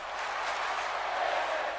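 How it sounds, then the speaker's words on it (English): Arena crowd in the WWE 2K18 wrestling video game, cheering during a triple threat match. It is a dense, sustained roar of cheers and applause at steady loudness. "And the crowd going nuts here for what has been an incredible triple threat match"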